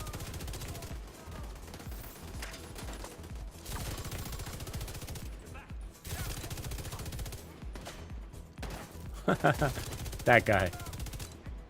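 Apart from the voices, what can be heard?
shotgun gunfire in The Division 2 video game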